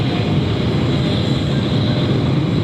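An arriving airliner approaching Cleveland Hopkins airport from the west produces a loud, continuous broadband engine roar, steady and close throughout, with no talking.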